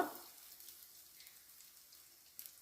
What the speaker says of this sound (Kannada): ಜೀರಿಗೆ ಒಂಚೂರು ಬೆಚ್ಚಗಾದ ನಂತರ ಈ ಬೆಳ್ಳುಳ್ಳಿ ಇರ್ತಲ್ಲ ಅದರಲ್ಲಿ ಅರ್ಧವನ್ನು ಬೆಳ್ಳುಳ್ಳಿಯನ್ನು ಈ ರೀತಿ ಹಾಕ್ಕೋಬೇಕು